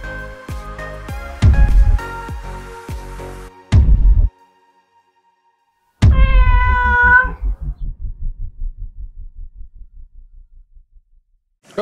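Cats meowing in the video game Conan Exiles: a series of loud, close game meows and a drawn-out caterwaul, separated by silent gaps, followed by a fading rhythmic throbbing sound.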